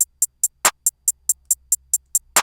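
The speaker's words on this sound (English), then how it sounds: "Just because two-step hi-hats is kind of overplayed" A two-step hi-hat pattern programmed in FL Studio: evenly spaced, crisp closed hats tick in a steady rhythm, with an occasional fuller hit layered with a low thump, clean and upfront with no voices.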